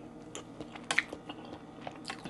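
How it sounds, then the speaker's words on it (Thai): Close, crisp crunching bites of fried chili peppers, several irregular chews over a couple of seconds, quiet and without speech. "กินพริกทอด"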